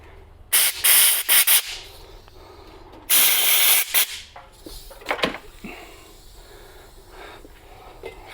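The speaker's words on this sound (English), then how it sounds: "Blow this stuff off with some brake clean and some air." Brake cleaner sprayed in two loud hissing bursts onto YZ125 suspension parts, then blown off with compressed air, followed by quieter scrubbing and brief hisses.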